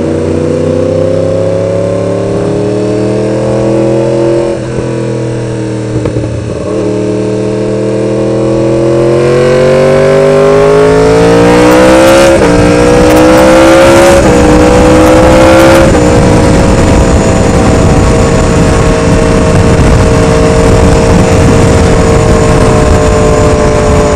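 Cars revving and driving past on a busy street while riding with a group toward a wash for a Yamaha R1, loud engine tones climbing and shifting, several vehicles overlapping and a sharp burst of revving near the middle.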